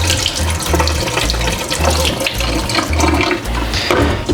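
Tap water gushes loudly while pozole ingredients are washed by hand, a strong close stream with uneven sloshing and splashing and no voices.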